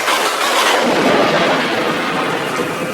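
Loud thunder rolls in a long, sustained rumble during rain, a deep booming roar that lingers for several seconds without a break.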